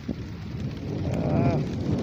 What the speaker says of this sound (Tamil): நல்ல அப்படி உளுந்த காற்று வீசிக்கிட்டு இருக்கு, மழை தூத்தல் போட்டுட்ருக்கு